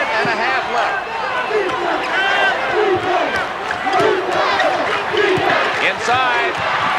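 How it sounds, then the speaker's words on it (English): Basketball arena crowd at the 1980 NCAA championship game between Louisville and UCLA, roaring and cheering continuously and loudly for UCLA late in the game, with voices mixed into the dense, sustained noise. "It's UCLA's turn to cheer."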